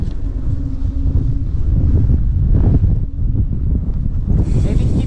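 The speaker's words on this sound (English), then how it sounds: "I lied about the wind. It follows me and it's pretty hard." Strong wind roars across the microphone while riding a bike, a constant low buffeting rumble with gusty surges and no letup throughout.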